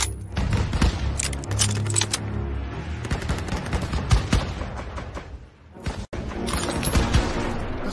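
Dense gunfire in the World War II video game Call of Duty WWII: rapid machine-gun bursts and scattered shots with booming impacts, loud and close, with a brief lull near the end before the firing resumes.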